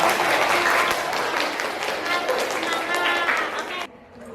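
A classroom audience applauds for a presenting teacher during a teaching performance exam. The clapping is dense and lively, with some voices mixed in, then cuts off abruptly near the end.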